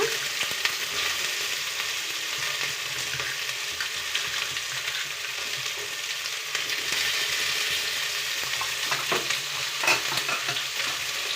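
Onions fry with ridge gourd for a curry in a pan, a steady broad sizzling hiss with occasional soft stirring scrapes, continuous and close, no voices.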